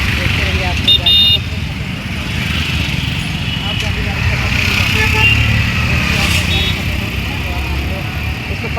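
Busy roadside traffic noise, a continuous rumble of passing cars and motorbikes with a couple of short horn-like tones, fairly close and steady throughout, with people talking faintly underneath.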